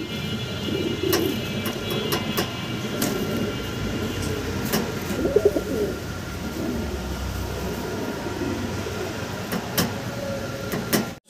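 Fancy pigeons in a loft coo softly amid a steady low background rumble, with scattered sharp clicks and wing or perch knocks breaking through now and then.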